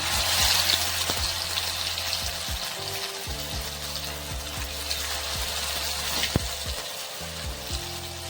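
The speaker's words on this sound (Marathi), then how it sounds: "आता आपण हे तळून घेणार हे तेल इथं गरम करून झालेलं आहे" Stuffed bread roll pockets deep-frying in hot oil make a steady, continuous sizzle and crackle, with soft pops scattered throughout and no talking.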